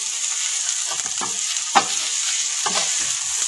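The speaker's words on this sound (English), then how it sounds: "And then you're going to add your onions and your garlic. And just let them heat through." Chopped onions and garlic sizzle loudly in a hot pan, a constant bright hiss broken by a few scraping stirs of a utensil, close and steady with no voices.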